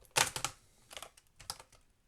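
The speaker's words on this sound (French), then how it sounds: "par en dessous, vous pouvez soulever le clavier" Keyboard being lifted out of a Dell Precision 7510 laptop from underneath, producing a few quiet plastic clicks and taps in small irregular clusters.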